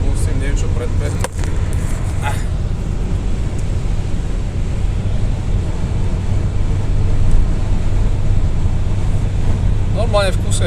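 Car on the road, heard from inside as it overtakes, a loud continuous roar of engine and road and wind noise with some talk at the start and end.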